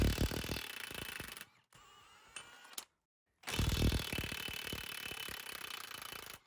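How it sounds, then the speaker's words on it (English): A Milwaukee impact wrench loosening nuts: loud rattling hammering bursts, then a quieter stretch with a brief spin, a moment of silence, and another sustained burst of impacts close up. "once it gets the nuts loose, it lowers its RPM so as to give you better control"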